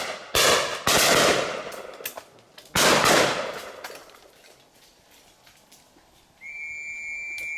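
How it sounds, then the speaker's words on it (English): Shotguns fire a final volley at clay targets on a simulated game shooting day: two close, loud shots in quick succession, then another shot about two seconds later, each fading into open-air quiet, with a faint whistle near the end. "then it's back on to a final volley of clays."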